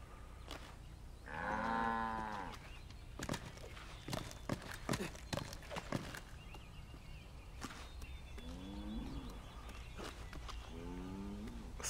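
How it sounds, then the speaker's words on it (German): Cows mooing in a forest in the Assassin's Creed III video game, one long loud moo followed by clopping hooves and footsteps, then two shorter, fainter moos later on. "Hier sind irgendwelche Kühe im Wald."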